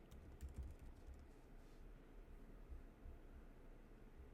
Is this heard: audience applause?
no